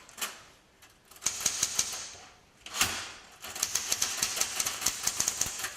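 Keys struck on an old manual typewriter in a forestry education center, heard as two bursts of quick, sharp clacks at close range, with a short pause between runs and no speech.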